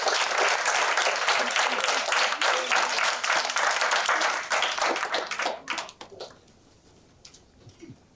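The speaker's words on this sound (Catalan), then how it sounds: "un aplaudiment per ells" Applause from a school audience for two guests from a university rugby club, dense clapping that carries steadily for several seconds with voices mixed in, then fades out to near quiet.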